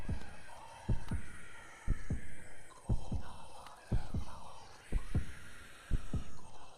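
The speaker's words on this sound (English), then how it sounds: "And the heart beating is getting louder." A slow, deep heartbeat from the Hollow Knight video game thumps about once a second over a hazy, whispering ambient hum, each beat a dull doubled throb.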